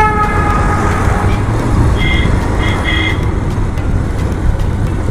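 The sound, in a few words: vehicle horn honking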